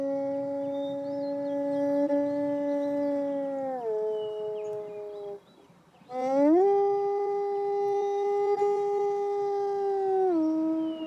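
A kobyz, the ancient Asian bowed string instrument, is played to imitate a wolf howl: long sustained rising and falling tones with a brief dip and pause midway, then a loud resumed howl, with no talk.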